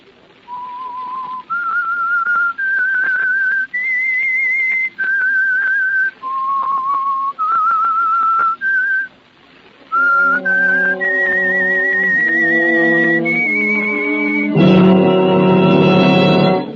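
A lone whistler carries a slow, eerie tune of held notes, the signal theme of the radio drama The Whistler, then a band swells in beneath and takes over loudly.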